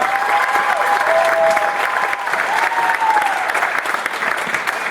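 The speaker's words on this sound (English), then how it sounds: "Let's give her a round of applause." Sustained audience applause at a school performance, a dense steady clapping from a large crowd lasting throughout at an even loud level, with faint tonal feedback whines over it and no talk.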